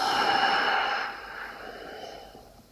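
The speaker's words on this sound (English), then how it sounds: "Big inhale, long exhale." A deep yoga breath in a calm home session: a loud, breathy rush of air that tapers into a long, softer exhale, close to the listener.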